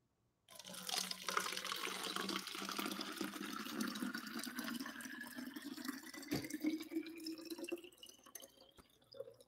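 Water is poured into a glass in a steady run, a rising fill tone climbing as the vessel fills, close and fairly loud, ending with a brief clink near the end.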